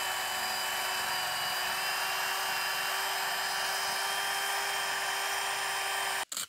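A power drill with a sandpaper pad whirs at a steady high pitch for several seconds, close by, sanding out scratches with lubricant, then abruptly cuts off with a brief clunk at the end.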